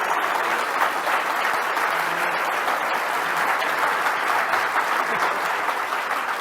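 A lecture audience claps for the speaker in sustained, dense applause that holds at an even level throughout, with no speech over it.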